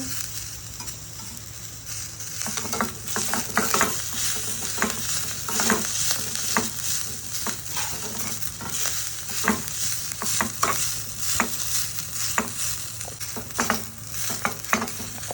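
Chopped onions fry for a tempering in a pan, a loud close sizzle overlaid with frequent rhythmic scrapes of a spoon stirring them, continuing for about fifteen seconds with no talking.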